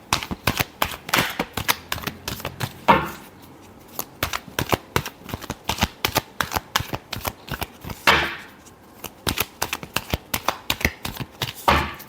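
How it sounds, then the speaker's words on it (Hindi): A deck of tarot cards is shuffled close up, with loud rapid riffles of sharp flicking and clicking in steady runs. Two brief pauses with a single snap break it up, and no one speaks. "Last shuffle."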